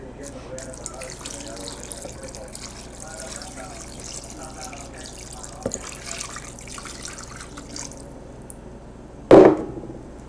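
Water runs and trickles into a crock pot while making menudo, a soft continuous pour close by, ending with a brief louder splash and knock near the end.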